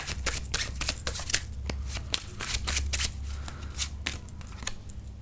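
A deck of tarot cards is shuffled by hand and cards are drawn, giving a close run of quick riffling snaps and papery flicks in uneven bursts, with no voice over it.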